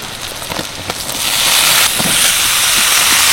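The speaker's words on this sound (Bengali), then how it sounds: "আর থোড় দেওয়ার সময় কিন্তু আমি হাত দিয়ে এইভাবে নিংড়ে দেবো। আর কত জল বেরোচ্ছে দেখুন।" Banana stem squeezed by hand into hot oil, a loud steady sizzle and hiss that swells after the first second, with a few soft drips and taps early on.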